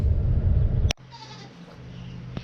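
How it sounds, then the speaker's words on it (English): Goats bleating as feeding time nears, a loud mixed bleat from the herd that cuts off abruptly, followed by quieter barnyard background and a faint distant bleat. "Y'all want to get a shot of my goats, see how they doing today?"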